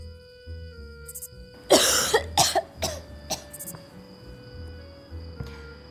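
A person coughs several times in close succession, a loud harsh burst followed by three or four shorter coughs, then falls quiet over a faint steady hum.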